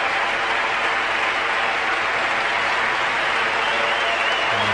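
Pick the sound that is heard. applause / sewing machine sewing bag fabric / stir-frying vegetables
applause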